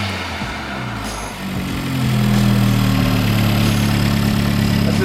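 A Honda Civic Type R engine fitted with an Eventuri intake idles, then rises to a louder, steady running drone with a throaty intake tone, close and alone.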